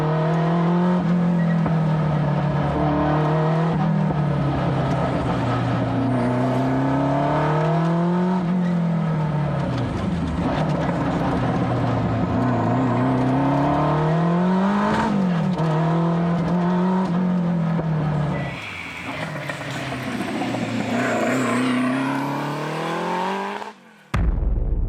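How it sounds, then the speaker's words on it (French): A race car on a closed-road special stage revs hard through repeated rising and falling gear sweeps, loud and close, with a brief burst of extra noise near the end and no speech. "on a une voiture qui est juste dingue, qui est une voiture de course"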